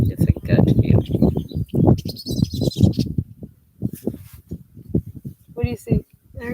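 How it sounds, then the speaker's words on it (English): Birds at a pond chirp in short, high bursts that come and go beneath steady nearby talking. "I heard a bird. There's birds in the pond."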